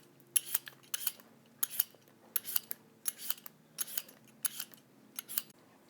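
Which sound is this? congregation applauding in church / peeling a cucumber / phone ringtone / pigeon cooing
peeling a cucumber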